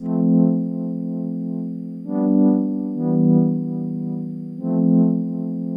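A Yamaha Reface DX FM synthesizer holds a low, buzzy tone with LFO modulation, so the sound swells and dims in a slow rhythm while the pitch shifts a few times. It plays alone, close and clear.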